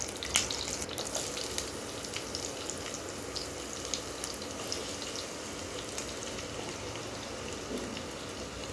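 Garlic fries in a pan with a steady, close crackling sizzle. Dense little pops and spatters run throughout at an even level, with no talking.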